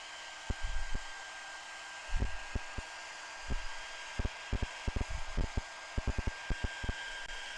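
A heat tool blows a steady whooshing hiss while warming paint on a pumpkin, with intermittent soft knocks and taps under the airflow.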